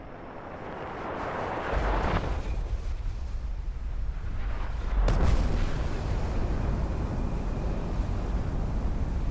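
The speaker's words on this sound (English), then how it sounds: "the whole area is engulfed in an explosion more powerful than any I've ever been witness to" A nuclear detonation in the video game Fallout 76 rolls out as a deep, rumbling blast, with a sharp swell midway followed by a sustained low roar that keeps building and lingering.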